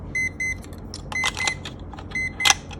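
A plastic alarm clock beeps in short electronic bursts, paired double beeps repeating in a regular pattern, loud and close with some handling rattle between them.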